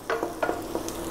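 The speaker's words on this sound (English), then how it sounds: "it just should be just sizzling like that" Sugar-glazed pork ribs sizzling on a barbecue smoker, a soft steady sizzle with a few quick scraping or stirring bursts close by.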